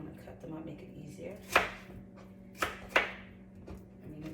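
A knife chops through fruit rinds in three sharp, fairly quiet strikes. One lands alone and two come close together, over a low background hum.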